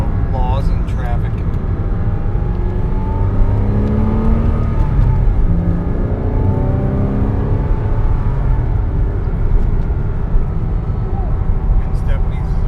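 A Porsche 987.1 Cayman S engine revs up and settles several times, the pitch climbing and falling in sweeping waves, loud and close, with a hint of voices near the start and end.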